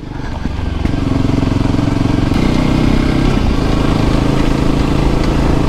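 Voge 300 Rally motorcycle engine riding off-road, a loud steady single-cylinder drone close by that rises slightly in pitch as the bike accelerates over rough ground.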